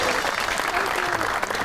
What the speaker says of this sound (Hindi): आपकी बहुत सी तालियों में the one and only mega.